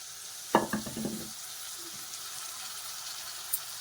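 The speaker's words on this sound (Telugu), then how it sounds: "ఇప్పుడు మనం బీరకాయ వేసేసి స్విమ్ మీద పెట్టేద్దాం" Ridge gourd stirred in a frying pan: a few quick clattering scrapes and a short burst of sizzling close by, then a soft steady hiss with one faint clink near the end.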